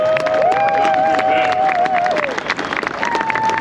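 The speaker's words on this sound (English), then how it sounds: "Let's give him a round of applause." A stadium crowd at a ballpark opening day claps and cheers steadily, dense applause with a voice and organ-like tones riding over it.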